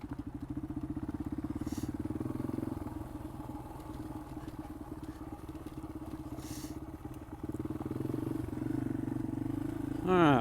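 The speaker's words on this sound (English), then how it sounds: "We're back out on the XT225." A Yamaha XT225 dual-sport motorcycle engine thrums while riding, a close, steady, rhythmic single-cylinder drone with slight shifts in pitch and wind buffeting throughout.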